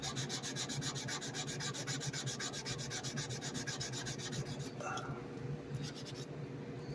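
Rapid back-and-forth rubbing of a 150-grit foam sanding pad along the edge of a U.S.S. Excelsior refit model, close and continuous with a quick steady rhythm that turns to a few slower strokes at the end.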